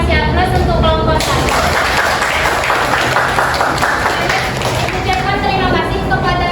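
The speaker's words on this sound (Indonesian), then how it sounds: "Boleh kasih aplaus untuk kelompok 1" Classroom applause for group 1, many hands clapping together in a steady, loud burst that carries on for several seconds in an indoor room.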